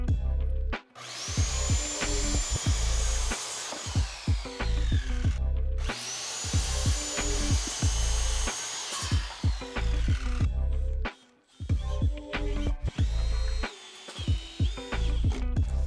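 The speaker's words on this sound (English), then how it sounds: "Let's just rough cut 2 boards and see how we do." Power saw rough-cutting lumber boards to sister a cracked roof rafter in an 1875 Philadelphia rowhome renovation, loud whining cuts in two long passes, then a shorter third pass, with clunks and board handling in the pauses.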